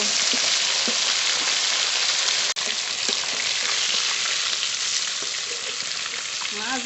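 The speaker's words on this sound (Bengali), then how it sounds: "ভালো করে ভেজে নিয়েছি নামিয়ে নেবো" Hilsa fish pieces fry in hot oil in a pan, a loud, dense and constant sizzle like heavy rain, with one sharp click partway through and no talking.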